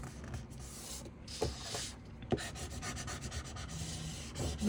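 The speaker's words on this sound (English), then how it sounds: "Burnish it down." Tape pressed and burnished down over the lip of a paper folio, a soft, close rubbing and scraping with a couple of small taps, quiet and continuous.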